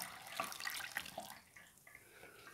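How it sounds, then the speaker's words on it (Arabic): Leftover water poured over ground apples while making an apple and lemon juice: a soft, splashy trickle of water that is fairly faint, heard alone with no talking. "وهاد الماء اللي بقى لينا غادي نخويه"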